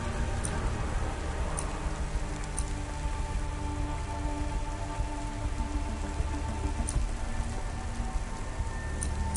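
Steady rain in the video game Cloudpunk, falling at a restaurant in a rainy city, a dense even hiss of drops with a low background hum and a few sharper ticks, no talk.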